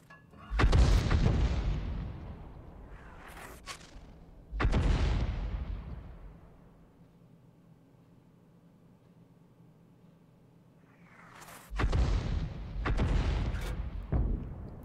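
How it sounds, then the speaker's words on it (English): Several heavy AMX 105 artillery gun blasts in a tank video game, each a loud booming shot with a long rumbling decay, spaced apart with quiet engine-like hum in between. "I'm firing at the position where the T-80 was last seen."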